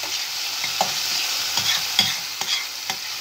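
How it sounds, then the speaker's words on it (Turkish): Tomato paste fries in a pan as a spoon stirs it, giving a soft steady sizzle broken by a series of sharp scraping taps against the pan, no talk. "Şu salça iyice kavrulsun."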